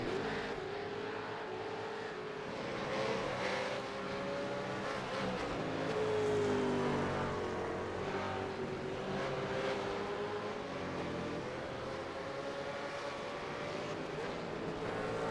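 V8 Supercars race cars roar around the track at Barber Motorsports Park, their engines droning and shifting pitch as they pass, heard at a moderate distance in a steady, layered stream without voices.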